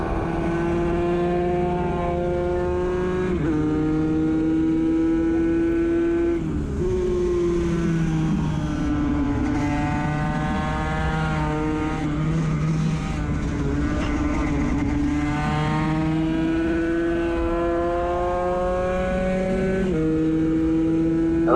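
Moto3 and 250/300 class motorcycles racing on a track, a continuous loud, high-pitched engine whine that rises and falls through repeated upshifts and downshifts as the pack passes, with no speech.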